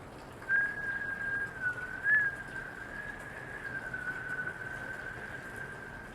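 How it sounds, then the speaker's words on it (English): A sustained thin whistling tone that wavers slightly in pitch, like breath pushed out through pursed lips during a yoga breathing exercise, steady and close for several seconds with no talking. "just let the whistle breath help you to release it"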